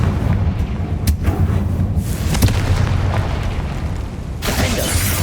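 A Confringo fire spell blasts off in Hogwarts Legacy, with booming, explosive bursts over a dense low rumble and a few sharp cracks spread through the combat.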